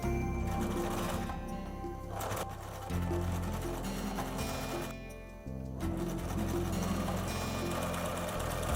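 A sewing machine stitches a sundress seam in bursts, its motor whirring steadily with brief pauses between runs, close and fairly quiet with no talking.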